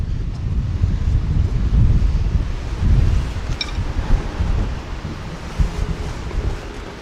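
Strong wind gusts blow outdoors during a rear brake pad job on a BMW X5/X6, a loud continuous low rumble of buffeting against the microphone, swelling and easing over several seconds with no one speaking.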